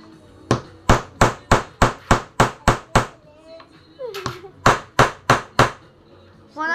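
A hammer cracks open hard-shelled pili nuts on a floor, a fast run of about ten loud, sharp whacks, a brief pause with faint rustling, then four more strikes close to the microphone.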